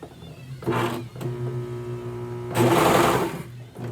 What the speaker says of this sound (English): we're going to sew the whole thing in one swoop